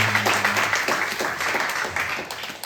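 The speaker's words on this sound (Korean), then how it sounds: "네, 박수 부탁드립니다." Audience applause at a high school youth group Sunday worship service, dense steady clapping that fills the short span, with faint voices mixed in underneath.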